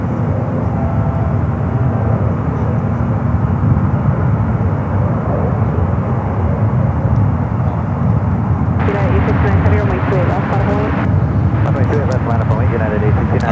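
British Airways airliner on flight 901 to London Heathrow takes off from San Francisco, a steady loud low jet roar filling the whole stretch, with people talking over it and a brief rise of higher hiss near the end.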